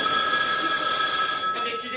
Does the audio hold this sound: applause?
no